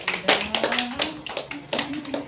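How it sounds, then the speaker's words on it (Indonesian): Classroom applause for a student in a microteaching session: a small group clapping unevenly in scattered bursts, fairly quiet and close, with a low hum underneath. "Tepuk tangan buat Aji."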